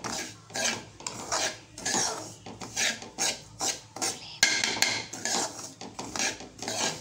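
Semolina roasting in a pan for kesari, stirred steadily so a spoon scrapes and rasps against the metal in repeated strokes, close and clear with no talking.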